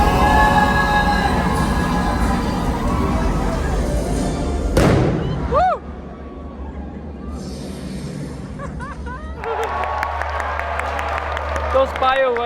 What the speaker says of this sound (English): Those fireworks are so loud.